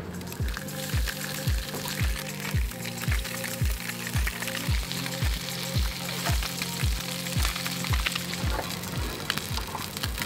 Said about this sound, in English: Give it a little test like that. See if it's sizzling.